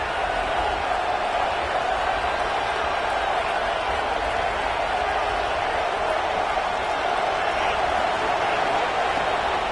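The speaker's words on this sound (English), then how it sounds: "Crowd getting this defense whipped up on 3rd down" A video game stadium crowd in College Football 26 roars steadily on third down, a dense, continuous wall of cheering noise that stays loud and even throughout.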